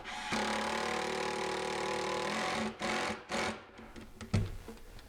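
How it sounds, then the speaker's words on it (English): A powered screwdriver drives a screw into a kitchen cabinet during installation, a steady close whir for a couple of seconds followed by a few short stop-start bursts and a faint clunk. "So I'm just going to put in the last screw."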